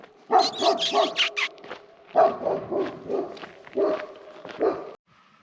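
A dog barks in rapid, loud bursts, then several more barks in uneven clusters, close by and with no talking.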